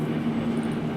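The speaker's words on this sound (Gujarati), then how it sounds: "ટ્રેન જો જાય છે, જો જાય ને." Train passing a railway level crossing, heard as a low, steady rumble of rolling wagons at moderate distance.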